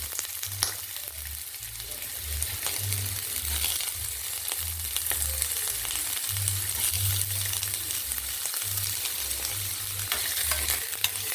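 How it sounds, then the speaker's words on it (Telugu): Green chilies and onions fry lightly in oil in a pan, a steady crackling sizzle with frequent stirring scrapes over a low pulsing rumble, continuous throughout. "ఆల్మోస్ట్ పచ్చిమిర్చి వేసుకొని లైట్గా ఫ్రై చేసుకోవాలండి"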